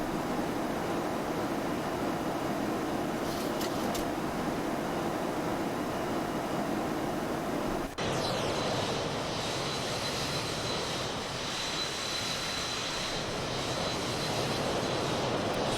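Boeing 737 twinjet engines climbing in the flight simulator X-Plane 11, heard as a loud, steady broadband jet roar that holds throughout, shifting tone partway as a brighter whine emerges above the constant rumble.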